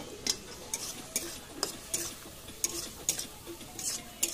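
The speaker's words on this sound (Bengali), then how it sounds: "একটু নাড়াচাড়া করে নামিয়ে নেবো" Date chutney being stirred in a pan on a rooftop picnic, with soft intermittent scrapes and light ticks of a spoon against the pan over a faint low sizzle, fairly quiet and without talk.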